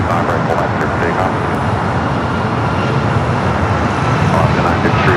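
An airliner takes off from runway 25 Right at Los Angeles International Airport, a loud, continuous broadband jet roar that holds steady throughout.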